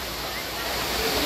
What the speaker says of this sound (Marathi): आणि हा बघा किती मस्त वॉटरफॉल फुल प्रेशरमध्ये